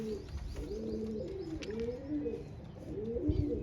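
Several Indian Lakha pigeons coo in repeated rolling phrases, close and fairly quiet, with a few brief chirps and shuffles around them.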